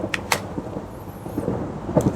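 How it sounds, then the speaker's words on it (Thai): Rain begins outdoors in Trang, Thailand, with low rumbling thunder beneath a steady hiss of falling drops and a few sharper crackles, fairly close and without any voices. "โอ้ยฝนมาแล้วต้องเลิกแล้วนะ"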